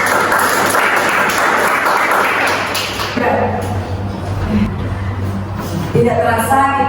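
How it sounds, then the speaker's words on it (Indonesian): An audience claps for two debate teams at the end of a legal debate, loud sustained applause that thins toward the end, with voices and a few taps mixed in. "Kita berikan tepuk tangan untuk kedua tim kita."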